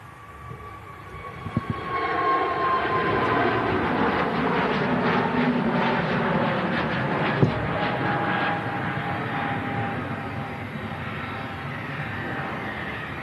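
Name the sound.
airplane near runway, Emirates aircraft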